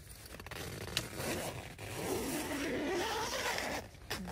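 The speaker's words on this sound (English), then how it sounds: "I think I'll zip my top up" A zipper on a clothing top is pulled up during a night of camping, a close scraping rasp that runs for a few seconds, with a quiet click near the start.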